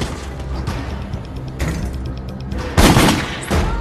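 Rapid bursts of gunfire crack in quick succession, loud and close, with heavier booming shots near the end over a noisy action-scene background.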